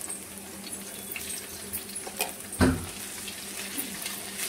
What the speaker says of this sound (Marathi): चांगलं तळून घेऊ आपण मिरची सोबत जिरे पण।